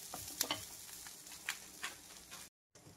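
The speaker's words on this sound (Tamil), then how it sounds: "வெள்ளை பூண்டு, தேங்காய் போட்டு நல்லா வதக்கிக்கணும்." Garlic and coconut with onion and green chilli sautéing in a pan for egg kuruma, a soft steady sizzle broken by a few sharp stirring clicks, cutting out briefly near the end.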